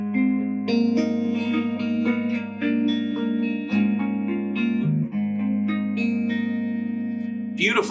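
An electric guitar played through an MXR Reverb pedal with modulation rings out in sustained, shimmering chords and notes, washed in lush reverb with a gentle wavering tone, loud and alone.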